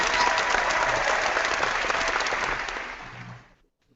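Studio audience applause, a dense burst of clapping that holds steady for a few seconds, then tapers off and fades out.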